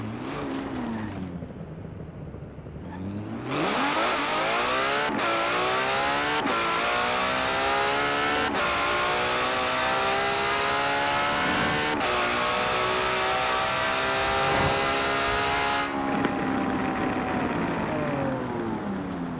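A racing car engine revs repeatedly in Forza Horizon 4, climbing in pitch through several quick gear shifts, loud and continuous with a brief drop near the start.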